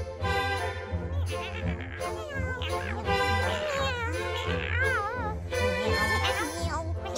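Cartoon kittens meow repeatedly in high, sliding cries, layered over background music, with cartoon voices chattering around them.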